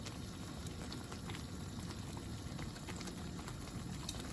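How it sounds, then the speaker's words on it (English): Tarka daal simmers in a pot, a steady, even bubbling with soft popping that holds at a constant low level throughout, with no voices over it. "Just going to allow this to simmer for a few minutes."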